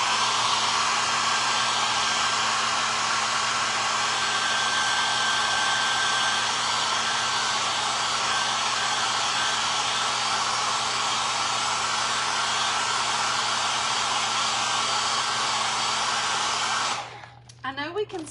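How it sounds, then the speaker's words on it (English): A hair dryer blows steadily on a wet church painting, a loud, constant close-up whir that runs unbroken for a long stretch before cutting off abruptly near the end. "Let's dry this church though right quick so that it is good and dry"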